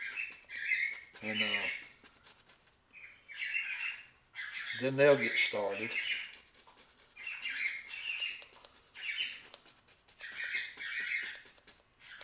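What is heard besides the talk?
wild birds squawking and calling loudly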